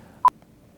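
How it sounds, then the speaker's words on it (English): A telephone dials a number, a single short clean dialing tone, sharp and close, set against near silence. "Dial the 604 number."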